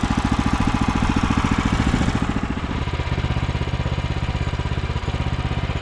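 An engine-driven saw cuts a log at an off-grid acreage, giving a loud, steady, close-up mechanical drone with a rapid, even pulse that dips slightly partway through. No voices are heard.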